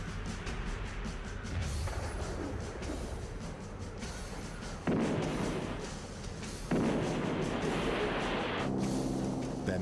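Bombing explosions from a war exhibit in a museum: a steady rumbling wartime soundscape broken by two sharp, loud blasts about two seconds apart, each leaving a lingering roar.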